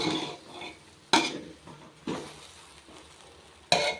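A spoon scrapes and clatters around a pan of North Karnataka style Borugula Vagarni, three sharp metallic strokes with softer sizzling and scraping between them, close and with no voices.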